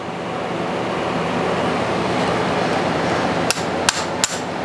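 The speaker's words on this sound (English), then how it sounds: "All right, get the big hammer." A big hammer strikes a rusted, stuck part on an old Sheldon lathe, giving three sharp metallic blows late in the clip over a steady background hum.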